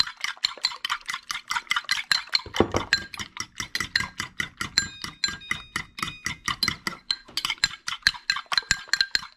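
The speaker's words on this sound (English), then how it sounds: "we're going to just mix up our eggs with our fork until we get to the right consistency" A fork beats raw eggs in a bowl with a steady, fast rhythm of clinks and scrapes. The sound is close and alone, with no talking.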